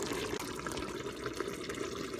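A vegetable and chicken mixture poured into a pot of Cameroonian groundnut soup gives a steady wet, liquid pouring wash that runs unbroken for the full length, with no talk.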